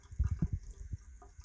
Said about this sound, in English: I'm just going to put some water.